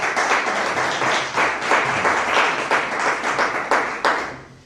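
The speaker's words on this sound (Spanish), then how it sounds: "un fuerte aplauso para ellos por estar aquí" An audience at a film festival colloquium applauds the director and crew of a short film, steady dense clapping that gradually thins toward the end.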